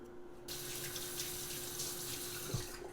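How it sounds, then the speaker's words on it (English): Kitchen tap switched on to rinse food in a sink, water splashing steadily and fairly softly for a few seconds with a faint electrical hum in the background. "We'll rinse these off."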